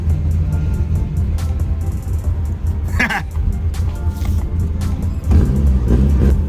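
A Suzuki Samurai fitted with a swapped 1.6L 16V engine idles and creeps along under its own power, a steady low engine rumble throughout with a brief squeal midway and a slight rise in revs near the end.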